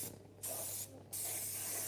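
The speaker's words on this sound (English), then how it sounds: "I still needed to spray the pan" Two short bursts of cooking spray hiss onto a baking pan while preparing banana bread, each a loud, close, broadband spray lasting under half a second, separated by a brief pause.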